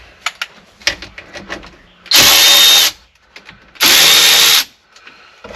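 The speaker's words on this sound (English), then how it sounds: "I'm just going to use my 1/4 inch cordless ratchet with a T30 Torx bit in it" A 1/4-inch cordless ratchet fitted with a T30 Torx bit, loosening screws on a Ford F350 Super Duty shifter. It gives two loud, steady whirring bursts of under a second each, close up, with scattered small clicks and taps between them.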